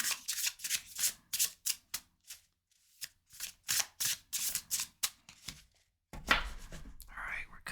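Tarot cards are shuffled and cut in a series of close, crisp riffles and slaps with short pauses between bursts, followed by a brief louder rustle and soft whispering.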